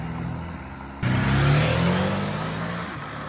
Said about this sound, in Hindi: गाइस अब हम जा रहे हैं ड्रैग रेस करने के लिए साहिल की ड्यूक और हमारी पोर्स के साथ में